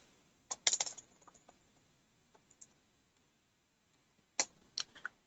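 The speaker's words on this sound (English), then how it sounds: "you type your password" Password typed on a computer keyboard while protecting an Excel file: short, quiet clusters of light key clicks, a burst near the start and another toward the end, separated by near silence.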